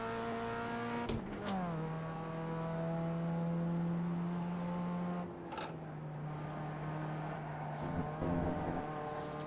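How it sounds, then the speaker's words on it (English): Race car engine in the iRacing sim racing game, a steady loud whining drone that shifts pitch with gear changes and throttle blips as the car turns through corners, heard alone. "Using the throttle there to turn the car."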